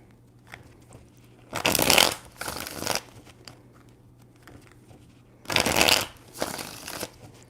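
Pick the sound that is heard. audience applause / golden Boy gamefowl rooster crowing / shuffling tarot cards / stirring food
shuffling tarot cards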